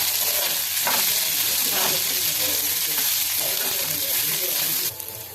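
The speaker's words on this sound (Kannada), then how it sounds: "ಅದಕ್ಕೆ ಮೊಳಕೆ ಬರೆಸಿರೋ ಹೆಸರು ಕಾಳು ಹಾಕೋಣ. ಹಾಕಿ ಚೆನ್ನಾಗಿ ಹಾಕೋಬೇಕು. ಈ ಥರ ಚೆನ್ನಾಗಿ ಹುರ್ಕೊಂಡು" Sprouted green gram tossed into a pan of hot oil and stirred, giving a loud, steady sizzle and hiss throughout with a few scraping stirs, dropping off abruptly near the end.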